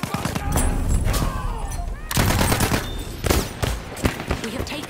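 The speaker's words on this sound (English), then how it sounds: "Enemy machine gun." Enemy machine gun fire in a shooter game, loud repeated bursts and rattling volleys close by, broken by short pauses, with overlapping game sounds and voice chatter.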